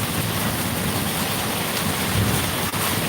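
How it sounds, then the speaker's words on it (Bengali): Steady heavy rain falls in Dhaka after a spell of intense heat, a dense unbroken hiss that holds at an even loudness throughout with no voices. "একটা ভালো একটা বৃষ্টি দিয়েছে আমাদেরকে ঠান্ডা করে দিয়েছে"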